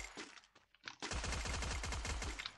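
Rapid SMG gunfire in the Free Fire battle royale game, a sparse shot or two at first, then a dense, loud sustained burst of automatic fire for over a second.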